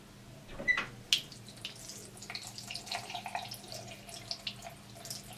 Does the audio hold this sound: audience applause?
no